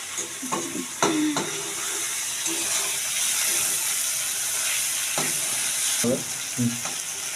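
Katla fish oil being stirred and fried with spices in a pan, a steady close sizzle broken by several scraping stirs of the spoon, with no talk.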